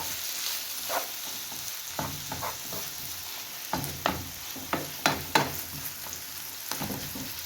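Brik pastry fries in hot oil, a close, steady sizzle broken by scattered crackles and scraping stirs, with no one talking.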